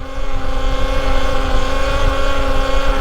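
Steady, loud electric whine of a Talaria Sting R MX4 electric dirt bike fitted with a 52-tooth sprocket and held in a wheelie, a continuous tonal hum with wind rush and no talk.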